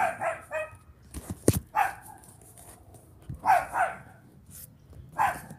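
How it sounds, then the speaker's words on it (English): A dog barks in short bursts, some close and some further off, with a sharp knock partway through and a steady low rumble beneath. "There's a fucking dog."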